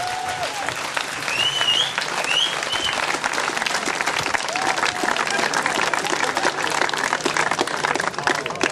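A crowd at a live concert in Celje gives the singer a long, loud, dense burst of applause that holds steady throughout, with a few voices calling out in the mix.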